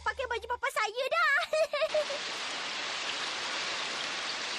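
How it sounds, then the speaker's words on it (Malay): Sudden rain pours down as steady, dense hiss that starts after a burst of animated cartoon speech and music, then continues alone and evenly loud to the end. "Alahai, tiba-tiba je hujan turun."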